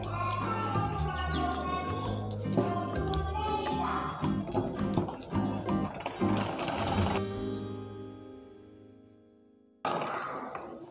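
An electric sewing machine stitches the side seam of a suit, running in rapid bursts of needle clatter that stop and start, then falls quiet before a brief restart.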